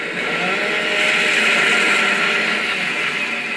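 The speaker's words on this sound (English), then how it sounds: "the Lancer's chainsaw bayonet was almost completely removed from the game because of how violent it was" Lancer chainsaw bayonet from Gears of War 2 revving in a steady, loud, buzzing whine that holds for several seconds without pause, sounding close and continuous, with no voices over it.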